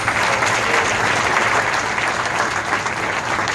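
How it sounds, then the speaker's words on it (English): A crowd claps steadily at the grand opening of a supervisor's new district office, even applause at moderate loudness with no break. "So please give him a big round of applause."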